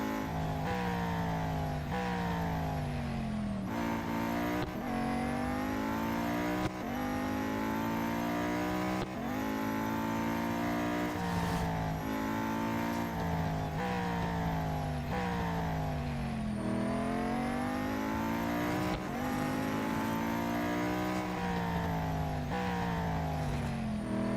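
Venom F5 race car engine on the final lap in Real Racing 3, a continuous loud high-revving whine that climbs and drops with repeated gear shifts throughout.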